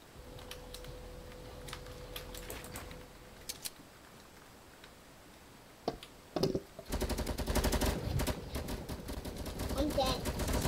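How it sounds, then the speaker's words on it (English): Video-game gunfire crackles in scattered single shots, then in dense rapid bursts through the second half, with faint voices now and then. "I'm gonna shoot you down."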